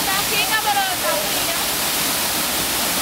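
A waterfall in St. Lucia pours into a cold pool, a loud, steady rushing roar close by with a faint voice briefly audible early on.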